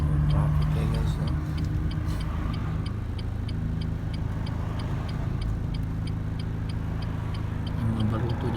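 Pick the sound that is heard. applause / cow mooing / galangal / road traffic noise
road traffic noise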